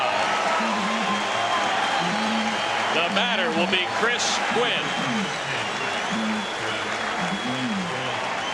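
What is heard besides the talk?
stadium crowd applauding pitcher Dennis Martinez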